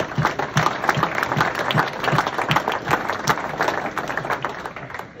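An awards audience applauds the Championship Player of the Year, a lively burst of crowd clapping with audible individual claps, sustained at close range for about five seconds.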